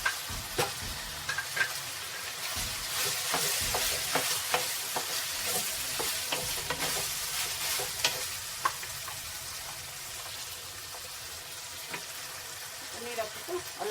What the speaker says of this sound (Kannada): ಬೆಂದು ರುಬ್ಬಿರೋ ಮಸಾಲ ಹಾಕೋಣ.